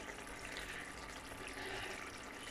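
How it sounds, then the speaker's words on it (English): Hot water pours steadily into a cooking pot while a fish curry is being prepared, a continuous close rushing splash lasting the whole moment with no talk. "You can add a little bit of hot water, not too much, to the pot"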